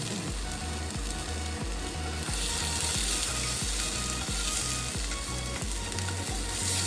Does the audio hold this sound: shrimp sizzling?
yes